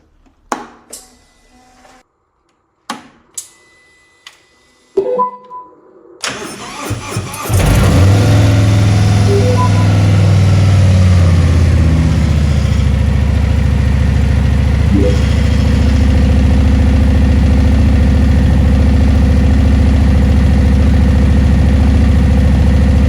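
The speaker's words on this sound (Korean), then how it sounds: "이제 바이크 배기음을 들려드리도록 할게요" Harley-Davidson Road King motorcycle exhaust: after a few quiet clicks and knocks, the engine starts and settles into a loud, deep, steady idle that continues close by for the rest of the clip.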